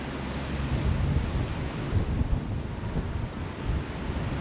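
Strong wind gusts through a park, roaring and buffeting the microphone in a steady rumbling wash, with no talking.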